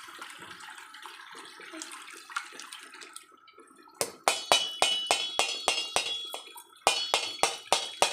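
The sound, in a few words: pouring tamarind juice through a strainer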